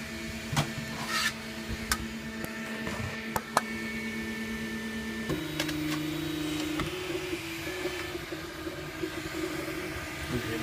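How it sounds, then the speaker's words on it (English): A 3D printer resumes a print job: steady stepper-motor whine and shifting tonal hums as the head moves, with light clicks and taps throughout, no talk. "And we tell the printer, resume the build."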